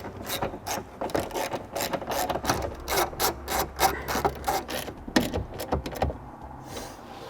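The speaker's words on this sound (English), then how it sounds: "All right, now let's tighten those down." A ratchet clicks in quick repeated bursts while bolts are tightened down during a trailer wiring harness installation on a 2014 Toyota FJ Cruiser, close and crisp with no talking.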